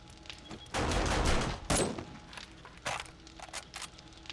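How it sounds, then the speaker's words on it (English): Automatic turrets fire in a video game in short rapid bursts of gunfire, a dense volley followed by sharper scattered shots, fairly close and loud. "Props to the turrets, though, for being, like, good with headshots."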